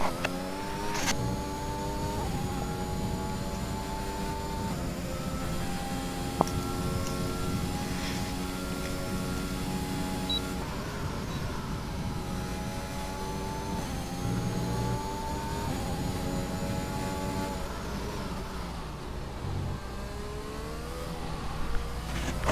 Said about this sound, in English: See what it is like to ride a full lap here around Silverstone in these cars.